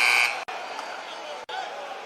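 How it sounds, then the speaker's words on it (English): A buzzer sounds at a Virginia Tech versus Clemson college basketball game, a loud sustained electronic tone over arena crowd noise and a commentator's voice, with two brief dropouts. "And the buzzer goes off."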